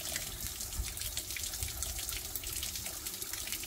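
Water pouring steadily onto the ground at an off-grid outdoor camp, a continuous close splashing rush that holds level throughout with no talk.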